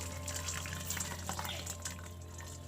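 Thick mutton curry with potatoes is poured slowly from a cooking pot, making a steady, soft liquid gurgle and splatter with faint dripping, close and alone.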